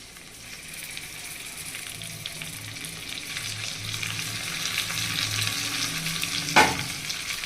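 Chicken frying in a pan with chopped coriander and half a lemon added, giving a loud continuous sizzle with stirring scrapes and a sharp clatter near the end, no voices.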